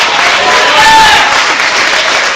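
A church congregation at an evening service bursts into applause and cheering. The crowd is loud and close, and the clapping swells briefly before holding steady.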